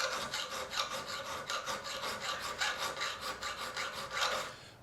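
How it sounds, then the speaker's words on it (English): A flat file rasps steadily across the back side of a chipper shredder knife blade, a close, continuous run of rhythmic scraping strokes with no voices. "Next, I'll use a flat file and clean up the back side of the blade."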